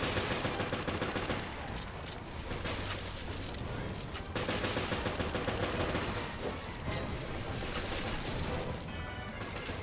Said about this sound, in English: Guess I'll use my machine gun.